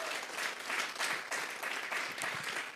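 A church congregation claps steadily, the applause moderately loud and even throughout, with no clear speech.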